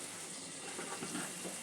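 Cauliflower curry with spices being stirred in a pan, a soft scraping and sizzling texture that builds slightly, ending in a sharp utensil clink against the pan.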